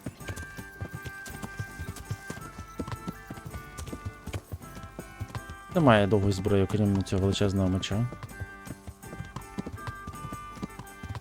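Horse hooves clip-clop in a blacksmith life video game, a quick run of loud, close steps lasting about two seconds, with someone speaking before and through them over game music.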